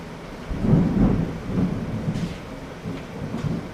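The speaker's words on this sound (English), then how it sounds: "That's a pretty good thunderstorm rolling through right now." Thunder from a thunderstorm rolls through in low, rumbling swells, a couple of deep booms fading in and out over a soft background of rain, with no voices.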